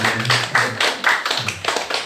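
Rhythmic group clapping from a Sunday church congregation in Seoul welcoming a newlywed couple, with steady loud hand claps and faint voices underneath.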